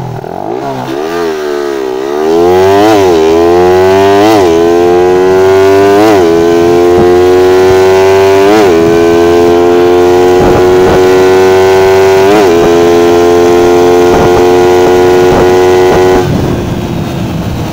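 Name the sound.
Suzuki Raider 150 Fi motorcycle engine revving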